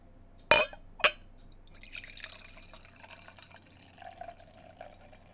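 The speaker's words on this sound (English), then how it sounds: "let's get into the theatrics of a 20-second pour" Imperial Stout beer poured slowly into a harpoon snifter glass: two sharp clinks of glass, then a soft, quiet trickle and gurgle of liquid filling the glass, faint and close.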